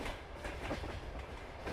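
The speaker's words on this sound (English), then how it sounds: "It's a very long train." Very long train rolling past in Farming Simulator 22, a steady broad rumble with continuous clickety-clack of wagons at moderate, distant-sounding level, without speech.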